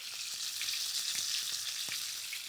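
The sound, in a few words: ginger, spring onions and garlic frying in a pan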